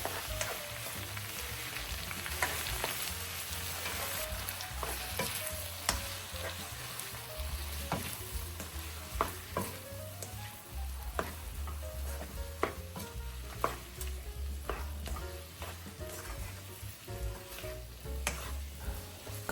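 Tomatoes sauté in a pan with lightly cooked aromatics for a Filipino ampalaya dish, a low steady sizzle with frequent sharp clicks and scrapes of stirring, close and fairly quiet.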